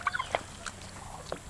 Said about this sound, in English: There's a big old turkey.